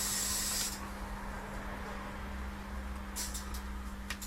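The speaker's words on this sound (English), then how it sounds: "Darren's spraying carpets in the background." Carpets are sprayed in a workshop background during an Austin MG A-series 1098cc engine rebuild, giving a steady hiss with short bright spray bursts at the start and near the end over a constant low hum.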